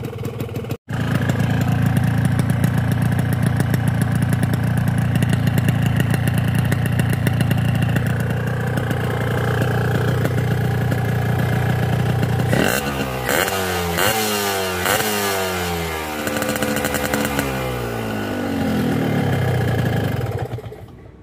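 A two-stroke motorcycle engine run on Jumbo Super X two-stroke oil idles loudly and steadily at close range. Then it is revved in several rising and falling bursts before settling back toward idle.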